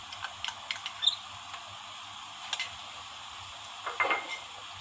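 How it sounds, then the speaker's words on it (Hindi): Ginger garlic paste frying with lightly browned onions for mushroom chicken, a low sizzle under occasional scraping stir strokes and small ticks in the pan, close and steady, no talk. "अब हम इसमें अदरक लहसुन पेस्ट डाल देंगे।"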